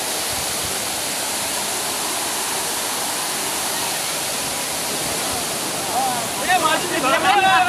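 A burst main water pipeline in Powai, Mumbai, carrying Tansa Lake water, gushes in a loud, continuous roaring torrent, with excited voices rising over it near the end.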